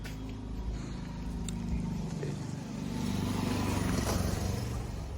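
A John Deere tractor engine runs nearby with a steady low rumble and a slight rise in intensity partway through, continuing throughout.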